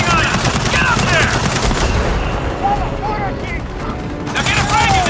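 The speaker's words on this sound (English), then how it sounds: "Machine gun nest!" Machine gun nest firing during a firefight in Gears of War 4 at a raided COG settlement, loud rapid automatic bursts with booming impacts that dip briefly and then resume, under shouted voices.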